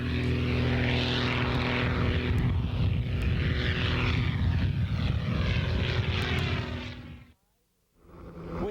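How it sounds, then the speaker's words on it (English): A helicopter giving rides at Fallbrook Airport during an antique fly-in drones loudly and steadily overhead, then cuts off abruptly near the end before a faint return. "We have a helicopter giving rides here at Fallbrook Airport. I'm sure you can hear him."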